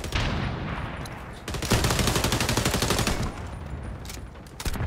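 Rapid automatic gunfire in the XDefiant shooter, dense bursts of loud cracking shots with a brief lull partway through, then sustained firing continuing to the end.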